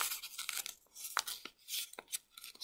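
Paper crinkles and crackles as it is folded inwards while shaping a traditional origami butterfly, a scatter of short dry rustles and soft taps close by with quiet gaps between them.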